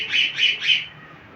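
Pigeons on a rooftop give three quick, harsh squawking calls in an even rhythm, close by, then fall quiet.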